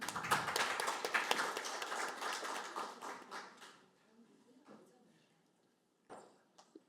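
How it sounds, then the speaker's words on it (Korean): A burst of clapping from a forum audience in Korea that fades out after a few seconds, followed by near quiet and a single faint knock. "네, 큰 박수로 모시겠습니다."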